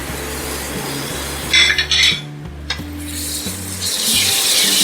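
Ginger garlic paste sizzles and fries steadily in a hot pan for mutton korma, with a few bursts of scraping and stirring and a low hum beneath.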